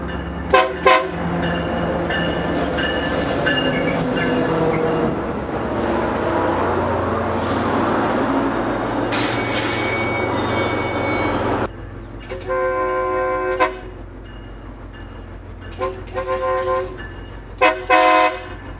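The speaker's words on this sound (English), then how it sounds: "my friend's train, aka UP 8541, finally arrived with a great crew on it" Union Pacific freight train UP 8541 arrives along the Salt Lake subdivision, sounding its horn in several loud, sustained blasts with short repeated toots near the end over a steady rumble of rolling cars.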